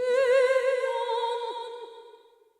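A test tone runs through a delay plugin with a saturator and a tape flanger. One bright, harmonically rich note sweeps and wavers as it decays over a couple of seconds, alone and without talk.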